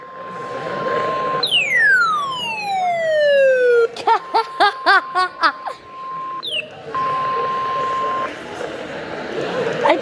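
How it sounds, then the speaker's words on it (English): An EAS 700 siren sounds indoors in a lunch room, with a steady tone, a rising wail and rapid pulsing bursts, loud and close while people talk around it. "I turned on the siren."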